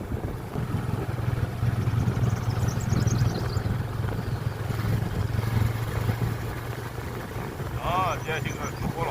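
A motorcycle ride on the way to the office: a continuous engine drone and road rumble throughout, with voices talking over it.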